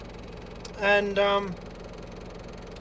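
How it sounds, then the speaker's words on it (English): A Daihatsu 4x4 engine runs at a steady idle with the exhaust removed, a low rough drone at night on a quiet dirt road, briefly interrupted by someone speaking. "I've taken the exhaust off the Daihatsu."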